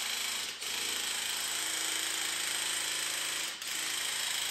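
A drill-powered paint sprayer runs continuously at close range, a steady buzzing mechanical whine with a dense rattling hum, dipping briefly twice as the drill trigger eases before resuming at full speed.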